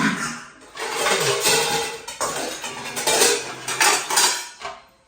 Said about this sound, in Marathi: भांडी असं लावत असते ती काय कशी लावते असं आपटो